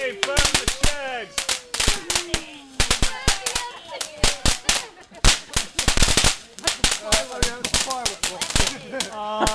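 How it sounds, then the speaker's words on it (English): Fireworks at an outdoor home display crackle in rapid sharp bangs and pops, close and loud, with people shouting and whistling among the blasts. "Firework!"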